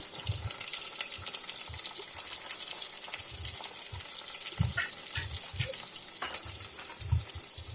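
Finely chopped onion with salt sautés in oil on a village wood-fired clay stove, giving a continuous close hissing sizzle with soft periodic thumps and scrapes from stirring.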